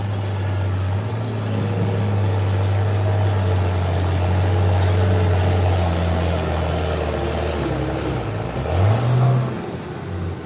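Buckwheat George's pulling tractor roars loudly and steadily at the Fishersville truck and tractor pull, a deep sustained drone that swells and rises in pitch near the end.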